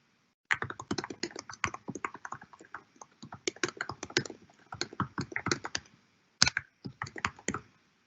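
Fast computer keyboard typing for a comment, heard up close as dense bursts of clicky keystrokes with a short pause near the end, no voices.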